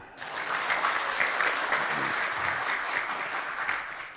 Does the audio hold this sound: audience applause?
yes